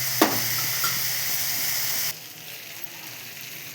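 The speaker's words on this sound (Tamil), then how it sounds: "நல்லா வதங்கட்டும்" Food sautés in a pan with a soft, even sizzle, a couple of stirring knocks early on, and then the sizzle drops suddenly to a much quieter hiss partway through.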